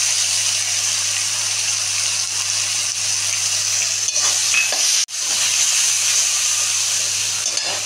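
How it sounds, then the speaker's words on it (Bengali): Cumin and green chili paste fries with turmeric in hot oil for a Bengali barramundi curry, giving a continuous loud sizzling hiss with one brief dip and faint clinks of stirring. "হলুদ দিলাম, এবার আমি জিরে কাঁচা লঙ্কা বাটা দিলাম।"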